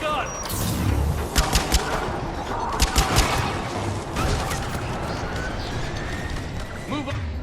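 Rapid machine-gun bursts and scattered gunshots ring out in a Mass Effect firefight, loud and close, with repeated sharp cracks over a busy battle din while voices call out orders.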